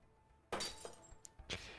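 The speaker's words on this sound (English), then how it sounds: "break the window behind you" Window glass shatters in a prison escape video game. Two sharp, close breaking crashes come about a second apart, with small clinks of glass in between.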